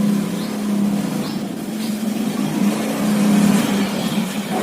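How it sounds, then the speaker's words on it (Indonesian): A motorbike passes outside, its engine giving a steady mid-pitched hum that rises slightly and swells louder toward the end, with no talk over it. "ada suara motor lewat"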